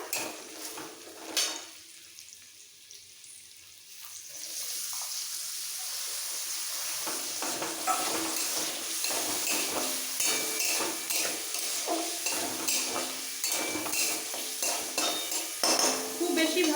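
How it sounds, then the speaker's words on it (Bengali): Boiled vegetables being stir-fried into fried rice, a steady oily sizzle with continual scraping and clattering of a spatula against the pan, close up and building in intensity after a quieter start, with no talk. "হালকা ভাজা ভাজা হয়ে গেলে সাথে সাথে দিয়ে দেবো বয়েল করা সবজিটা"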